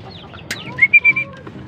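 Pigeon chicks give a few high, thin peeping chirps in quick succession, close by, with soft scuffling around them.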